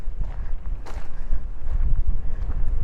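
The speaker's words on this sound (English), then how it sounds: "And I never realized how windy it is here." Gusty wind buffets the microphone on top of Citadel Hill, inside the hilltop fort, as a steady low roar with rising and falling gusts and no voices.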